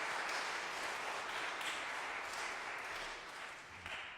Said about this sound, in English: but give him a round of applause.